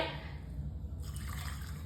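Hot water poured into cooked chickpea-lentil dal with bottle gourd, a short steady splashing stream that brightens partway through and runs on continuously.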